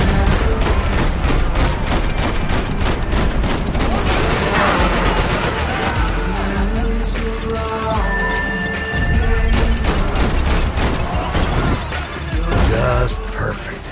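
Grenade blasts and gunfire crash through a firefight in the shooter game Max Payne 3, with loud repeated booms and smashing impacts layered over a continuous din, and voices faintly mixed in.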